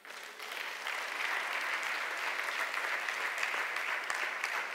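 A church congregation gives sustained, steady applause filling the room, a dense wash of many hands clapping together without a break.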